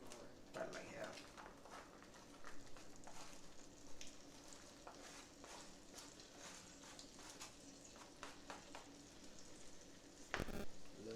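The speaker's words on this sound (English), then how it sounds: "add the onion to it and cook the onion down. Add some butter first to it." Onions fry in butter in a pan while shrimp fried rice is being cooked, a steady low sizzle broken by stirring clatter, heard faintly under people talking.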